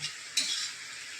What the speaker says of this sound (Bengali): এবার শাকটাকে আমি ভেজে নেব